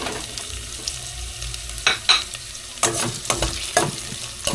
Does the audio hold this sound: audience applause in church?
no